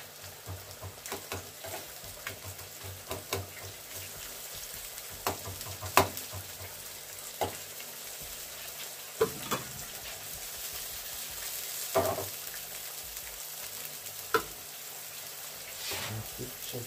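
Mayonnaise-coated potatoes fry in a pan, a continuous close sizzle with repeated scraping stirs and occasional louder knocks, with a voice talking at times.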